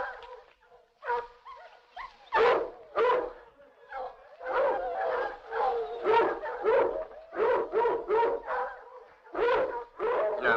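Several dogs in a lavish ancient Roman household bark and whimper at feeding time, a busy run of close, loud yelps and yaps coming in repeated clusters with little pause.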